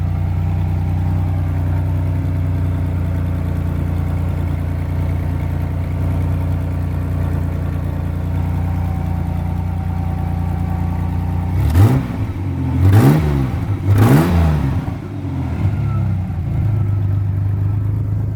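A 2.8 V6 engine in a Pontiac Fiero GT idles steadily for a long stretch, then three quick revs rise and fall sharply before settling back to idle.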